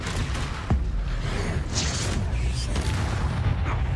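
A Confringo blasting spell goes off in the Hogwarts Legacy video game, a sharp boom near the start followed by dense rumbling blast noise that continues throughout.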